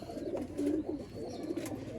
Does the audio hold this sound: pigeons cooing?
yes